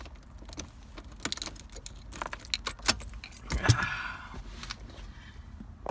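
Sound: keys jangling being moved aside

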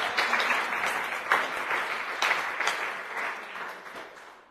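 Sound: church congregation applause

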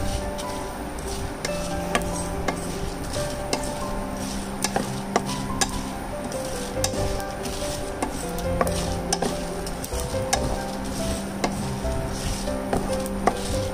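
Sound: sautéing ingredients in pan on medium flame for prawn vada

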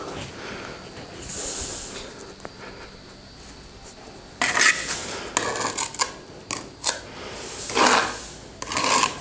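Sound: brick laid on stove mortar

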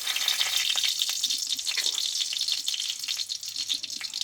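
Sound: dried red chilli and bay leaf sizzling in hot oil

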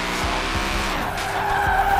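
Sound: Ford F150 drifting with tire squeal in a Forza video game

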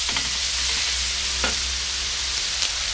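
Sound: pork stir-frying in a pan

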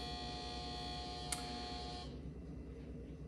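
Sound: refrigerator humming next to the camera

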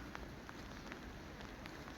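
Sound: heavy rain pouring

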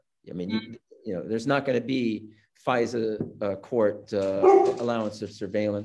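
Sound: dog barking in the background

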